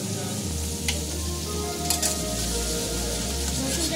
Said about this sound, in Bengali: রসুনটা একটু ভালো করে ভেজে নেব